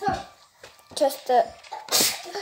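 A child sneezes once, sharp and close, right after a few words of Romanian speech, with talking before it.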